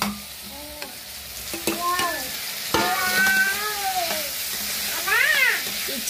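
Tomatoes going into a sizzling chicken curry with sambar masala and gongura: steady frying hiss and stirring sounds close by, while a cat meows repeatedly over the cooking.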